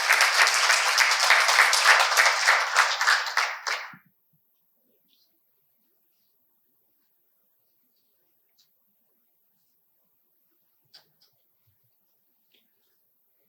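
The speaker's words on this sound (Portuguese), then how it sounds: "Uma salva de palmas ao novo acadêmico." Audience applause for a newly installed academician at a formal investiture ceremony, dense clapping for about four seconds that stops abruptly, followed by near silence with faint small noises.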